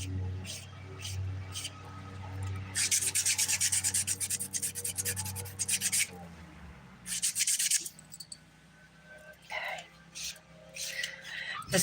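Rhythmic rasping strokes of a nail file against the underside of a dip powder nail come in close bursts, with a low hum and a soft voice in the background.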